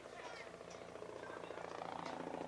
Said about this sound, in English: Helicopter you can probably hear comes buzzing over the stadium.